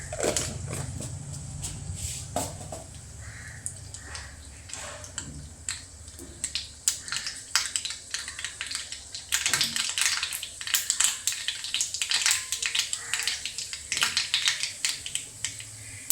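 Mustard seeds spluttering in hot oil for lemon pickle, with a dense run of sharp crackling pops and spits that thickens in the second half, close and fairly loud with no talk.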